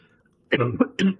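A short double cough lands close into a gaming chat microphone, two sharp bursts followed by a third after a brief pause.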